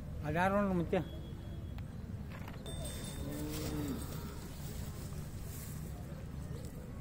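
Bullocks at the Chadachan cattle fair in 2025 low in a mix of wind noise and crowd chatter, with a nearby voice speaking over the steady outdoor rumble.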